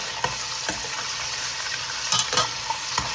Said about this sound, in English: I will add the garlic in it, and I will stir fry it again.